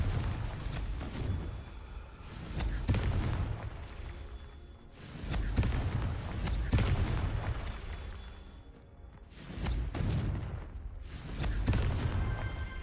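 Confringo fire spell blasts in the Hogwarts Legacy game come as several heavy, rumbling booms in a loose series, each swelling and fading over a second or two. The blasts sound fairly loud against the quieter game ambience between them.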